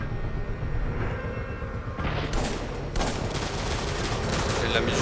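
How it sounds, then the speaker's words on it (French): Gunfire in the video game Bloodshore breaks into loud, dense bursts of shots close up over a continuous rumble, with heavier volleys after the first couple of seconds. "Maintenant, on ouvre le feu, on rigole plus."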